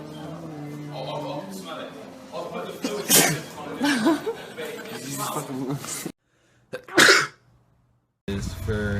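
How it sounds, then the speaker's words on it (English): A young man sneezes repeatedly between bursts of talking, with several sharp, explosive sneezes close to the mic, a short silence, then another sneeze and more speech. "I can't fucking stop sneezing."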